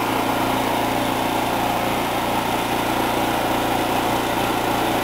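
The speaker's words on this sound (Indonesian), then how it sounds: "kita harus menunggu beberapa saat untuk proses pemanasan dari genset tersebut." Generator set engine idling through its warm-up before an ATS transfer to grid power, a steady, continuous drone held at an even level with no one talking.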